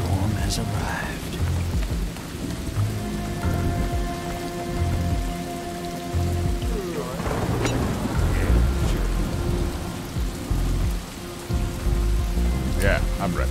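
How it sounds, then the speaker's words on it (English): Heavy rain pours steadily in a thunderstorm in the Western stealth game Desperados 3, with rolling thunder rumbling through the downpour and a few sharper cracks, loud and continuous. "The storm has arrived."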